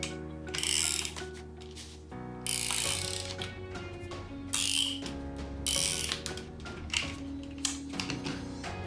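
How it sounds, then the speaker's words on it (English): A double-sided glue tape runner is pulled across the back of a card piece for a Valentine's Day card. It makes ratcheting, clicking mechanical whirs in several separate runs, close up and fairly quiet, with no voice. "I'm going to be using double-sided tape or double-sided glue tape, okay? And I'll just run it at the back"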